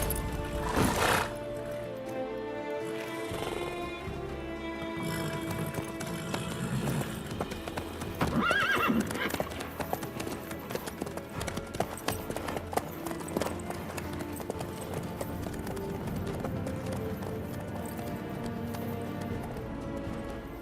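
Horse hooves clip-clop at a steady walking rhythm in The Witcher 3 video game, a moderately loud, continuous patter under game music and ambience.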